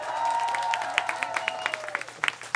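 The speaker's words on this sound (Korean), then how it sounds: "형들에게도 박수 한번 주시면" A concert audience at a K-pop band showcase at a live venue breaks into applause, with a crowd of clapping hands and light cheers under lingering stage tones, thinning into separate claps toward the end.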